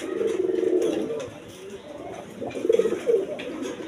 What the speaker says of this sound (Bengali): এখানে বিভিন্ন ধরনের বিভিন্ন বিটের কবুতর আছে